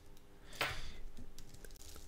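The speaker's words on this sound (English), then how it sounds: "we will type in our shop name" Computer keyboard typing: a quick run of soft, close keystrokes with one louder key press near the start, tapping steadily on its own.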